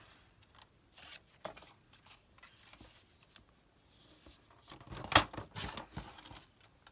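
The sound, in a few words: cutting paper envelope to trim it down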